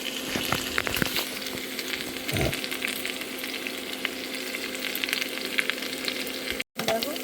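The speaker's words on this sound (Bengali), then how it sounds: "দেখুন আলুগুলো ভালো করে ভেজে নিচ্ছি আমি" Potatoes fry in hot oil in a pan for aloo dum, sizzling steadily with occasional stirring scrapes and clinks close by.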